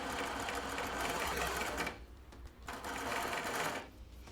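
Sewing machine stitching a juvenile bra, running in two long continuous bursts with a short pause between, steady and close with no talking.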